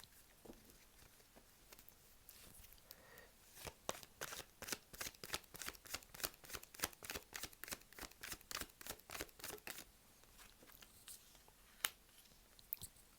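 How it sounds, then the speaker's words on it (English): A deck of tarot cards is riffled and shuffled close by, a quick run of crisp flicking bursts in a steady rhythm that pauses briefly and resumes, quiet with no voices. "Okay, let's shuffle."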